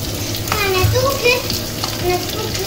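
Large onions fry in hot oil for a pepper mutton curry, giving a steady close sizzle and crackle with occasional stirring scrapes.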